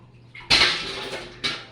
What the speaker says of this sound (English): Splashed too much water.